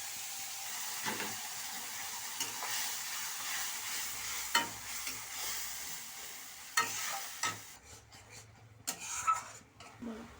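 Onion paste going into hot oil spiced with dried red chilli, cinnamon, cardamom and bay leaf, a moderate sizzle and hiss broken by several close spatula scrapes and knocks against the pan.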